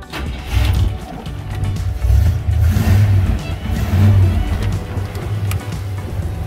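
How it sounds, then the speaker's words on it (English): A 1968 Chevrolet Impala SS convertible with a 327 V8 of 250 hp, original and unrestored, starts up and idles. Its deep, loud rumble pulses in low throbs close by and stays steady throughout. "The 327 just runs like an absolute sewing machine."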